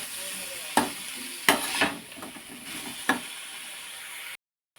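Cabbage gobi manchurian frying in a pan with a soft steady sizzle, broken by several sharp scrapes and knocks of a spoon stirring against the metal, close by, before an abrupt cut to silence.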